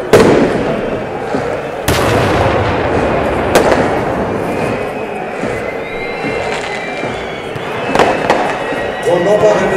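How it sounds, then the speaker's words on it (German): Fireworks and firecrackers bang repeatedly amid a loud roaring crowd in a football stadium during Eintracht Braunschweig versus Hannover 96, sharp cracks standing out over a dense wall of noise and voices. "das knallt hier aus allen Ecken und Kanten"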